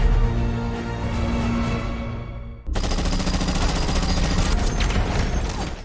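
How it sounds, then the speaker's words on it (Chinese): AK-47 rifles fired by robbers in a superhero TV drama, a loud, dense burst of continuous automatic gunfire that cuts off briefly, then resumes as rapid sustained volleys mixed with impacts and mechanical clatter. "劫匪招呼兄弟们打光了所有子弹"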